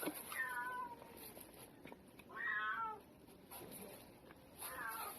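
Several cats meow in a few separate bursts, fairly close, with quiet background noise between the calls.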